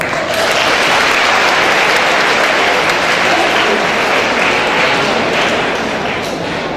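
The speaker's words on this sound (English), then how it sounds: "So give it up for yourself with a big round of applause." An audience at a school Teacher's Day celebration gives a big round of applause, loud dense clapping that holds steady throughout without letting up.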